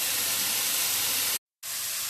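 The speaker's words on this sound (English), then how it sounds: "So you can hear the sizzling." Butternut squash sizzles in a pot on the stovetop as it caramelizes, a steady soft hiss with a brief cut to silence partway through.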